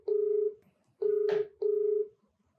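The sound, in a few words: telephone being dialed to place a call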